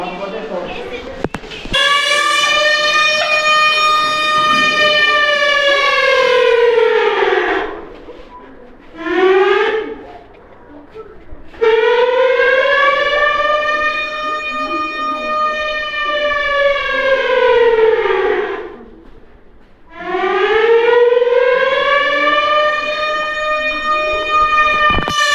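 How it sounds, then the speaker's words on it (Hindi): Civil defense siren sounding during a blackout mock drill, loud rising-and-falling wails repeated in three long cycles with short pauses between, close and dominant. "चलिए सर थोड़ा सायरन बजाइएगा"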